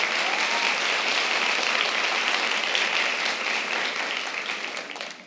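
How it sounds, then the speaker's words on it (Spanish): An audience applauds steadily in a dense wash of clapping that holds for several seconds, then begins to taper off toward the end. "para ustedes un aplauso y bienvenidos"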